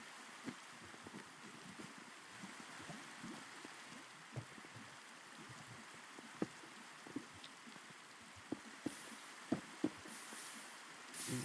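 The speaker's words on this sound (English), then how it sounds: "Now, of course, rain decides to show up." Steady rain falls in a Minecraft-style modded survival game world, a soft continuous hiss with scattered light drop ticks and a few louder taps near the end, heard alone without talk.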